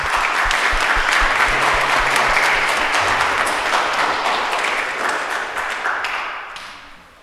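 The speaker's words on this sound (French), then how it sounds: "Merci de les applaudir." A congregation at a Christmas Eve Mass applauds with dense, continuous clapping that holds steady for several seconds, then gradually fades away.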